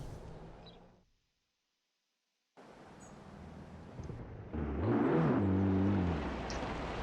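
Ferrari 599XX Evo with a drag tune in Forza Horizon 4 pulling away on a highway, engine rising from a low rumble into a loud climbing rev after a brief silent gap, no talk.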